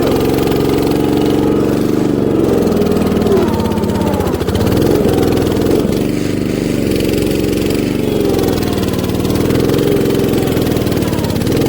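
A 1960s Terra Mite tractor engine runs continuously, a loud, close, rough mid-pitched chug that rises and dips slightly in speed, with no talking.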